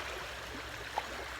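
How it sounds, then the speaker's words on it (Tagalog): A large provincial river flows steadily in the distance, a faint, even rushing wash with no voices. "malaki yung ilog namin guys"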